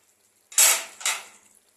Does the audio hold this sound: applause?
no